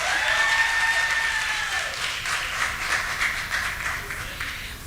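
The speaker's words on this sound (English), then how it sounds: "Please, can you welcome her with a warm round of applause?" Audience applause at a university Africa Day event, welcoming a royal guest speaker onto the stage; a steady broadband wash of clapping that stays fairly loud and gradually eases over several seconds.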